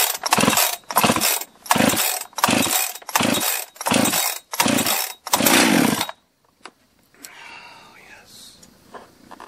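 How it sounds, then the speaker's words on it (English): A freshly rebuilt chainsaw on its first start attempt after a heat cycle: about seven loud, rhythmic pull-cord bursts in quick succession, then an abrupt drop to quiet, faint background noise. "first start since going through the whole thing"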